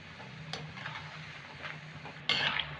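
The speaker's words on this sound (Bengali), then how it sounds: "এভাবে কিন্তু নেড়ে নেড়ে ভাজতে হবে" Cashew nimki frying over medium heat in a pan, with a soft steady sizzle and a few light clinks of a spatula against the metal as the pieces are turned, close by and with no voices.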